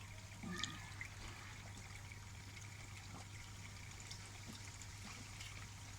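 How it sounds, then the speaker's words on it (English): Water runs and trickles quietly during a water change on a garden koi pond, a soft, continuous flow over a steady low hum, faint and without speech. "doing the first water change on the pond itself"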